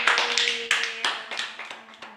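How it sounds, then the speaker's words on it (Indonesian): A small classroom group claps briefly, scattered hand claps rising and fading over a couple of seconds, with a faint tone lingering underneath. "tepuk tangan buat Mas Abil."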